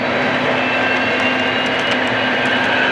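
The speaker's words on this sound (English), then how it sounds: "Got a long train here" Long model train, a Pennsylvania Heritage locomotive, running on a club layout, giving a steady, loud, continuous rumble and hum with no break for the whole stretch and no voices.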